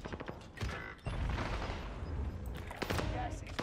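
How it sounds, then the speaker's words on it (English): Cluster strike in Call of Duty Warzone: a loud burst of rumbling explosions and crackling impacts rolls on for several seconds, with sharp blasts at the start and end. "Allied cluster strike on the roof"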